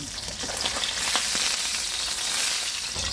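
A salmon head fries in a pan for sinigang, a close, steady, crackling sizzle with scattered pops and no voices.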